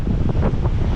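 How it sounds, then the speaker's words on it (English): Strong wind buffets the microphone with a steady roar over waves breaking along the seafront Malecon of Puerto Plata, Dominican Republic, loud and continuous with no voices. "There is a lot of wind on the Malecon of Puerto Plata"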